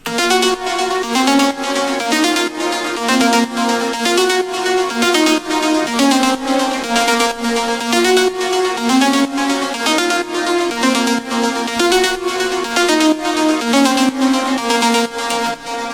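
A melodic techno track at full energy, with a bright synth lead playing a repeating melody over a steady beat and a pulsing bassline, loud and continuous.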